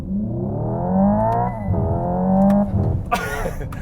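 A 2024 Hyundai IONIQ 5 N electric car accelerates hard at full throttle, its synthetic engine tone climbing in pitch, dropping briefly at a shift, then rising again, loud and close from inside the cabin.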